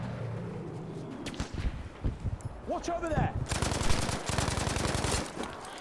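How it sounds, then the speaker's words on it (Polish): Rapid bursts of gunfire crackle in Battlefield V on PS4, with sharp single shots building into a fast automatic volley, mixed with brief voices. "Słyszałem strzał."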